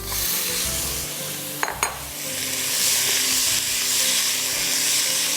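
Steady loud sizzling of meat, ginger-garlic paste, curry leaves and spices frying in a hot pot, with a brief clatter of a utensil stirring partway through; no one speaks.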